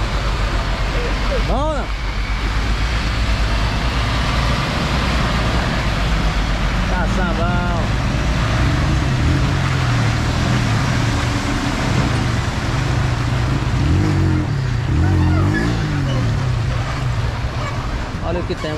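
A heavy road machine on the BR-163 highway, on a slope where water has started seeping up, rumbles with a steady, close, low engine drone throughout while people talk over it.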